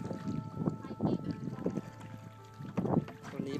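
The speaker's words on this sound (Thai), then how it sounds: "วันนี้เราพายเรือไปแม่น้ำแควครับไปสะพาน" Kayak paddling on the River Kwai in Thailand, rhythmic paddle strokes and water swishes at close range, mixed with wind buffeting the microphone and someone talking.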